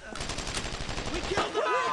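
Rapid bursts of close gunfire from a World War II firefight in Brothers in Arms: Road to Hill 30, dense repeated shots rattling continuously, with shouted voices breaking in toward the end.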